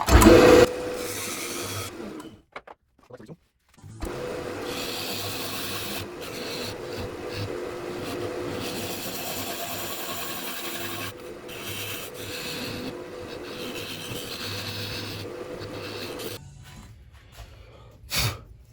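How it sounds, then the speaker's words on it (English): Wood lathe spinning while a tool cuts a recess into wood for an acorn-shaped birdhouse, a continuous scraping, rasping hum with brief pauses and resumptions, no talk. "So I'm just gonna go ahead and cut a little recess in here."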